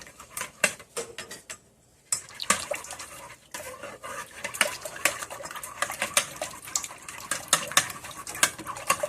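A utensil whisks savory waffle batter for bacon, cheddar and chive waffles in a bowl, making quick clinking, scraping strokes in bursts with two short pauses, close and alone.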